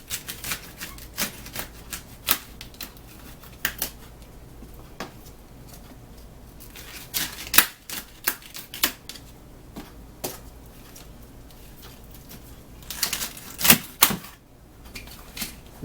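A knife cuts through asparagus spears on a cutting board, making sparse, irregular sharp taps and clicks close up, with a brief cluster of louder knocks near the end and no talking.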